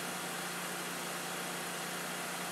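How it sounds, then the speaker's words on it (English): A Kohler engine left running with its fuel supply shut off drones steadily at close range, a constant mid-pitched hum with a low tonal note and broad noise, no speech over it. "simply shut off the fuel supply, run the engine out of fuel"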